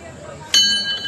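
A bell is struck once, giving a sharp clang with a bright ringing tone that lingers and fades, with people talking nearby.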